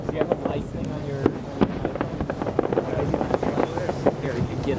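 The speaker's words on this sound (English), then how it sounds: "you can get a picture of Lola and Fireworks" Fireworks show at the Golden Gate Bridge, heard as repeated distant pops and booms over steady wind noise, with people talking nearby.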